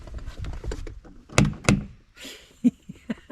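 A door knocker strikes a handmade wooden door built from 1x3 treated lumber: a few sharp, hollow knocks land close by in an irregular rhythm against soft background movement.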